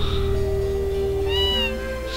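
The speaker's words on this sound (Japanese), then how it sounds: "おお、猫いっぱいだな、ここ。" Cats meowing in the Tales of Phantasia video game, a couple of drawn-out close meows over a steady background tone, without talk.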